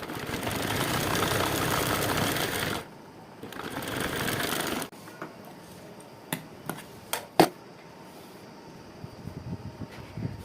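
A sewing machine runs steadily for several seconds while stitching a pocket on a fabric hanging wall organiser, pauses briefly and runs again, then stops and gives way to scattered clicks and handling taps.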